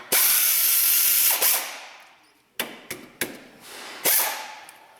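Ratchet wrench loosening a bolt on a Subaru EJ25D 2.5 DOHC engine during timing belt and water pump work, with long buzzing ratchet runs and several sharp clicks, close and loud.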